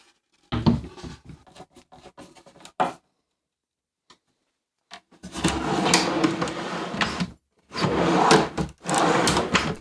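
Someone pulls a drawer out of a workshop tool cart cabinet. Wooden sliding and rattling scrapes come first, then, after a pause, several longer, louder scraping pulls.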